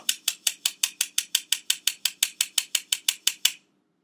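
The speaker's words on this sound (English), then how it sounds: "you just work through the sifter and it will mix it all into the flour for you" A hand-cranked flour sifter working flour and salt: a fast, even run of about twenty close ratcheting clicks, then it stops.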